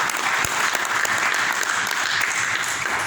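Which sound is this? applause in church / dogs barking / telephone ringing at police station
applause in church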